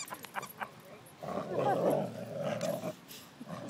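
Dogs growl and grumble while tugging on a squeaky toy, a low rough rumble swelling for a couple of seconds between brief yips, fairly quiet and close.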